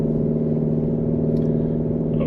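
A Porsche Cayenne performance SUV powers out of a corner, its engine holding a steady, strong low drone heard from inside the cabin, continuous and loud with no talk.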